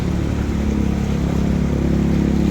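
A steady, loud motorcycle engine idles and hums low and continuous in floodwater, with a churning, muffled quality and no talking.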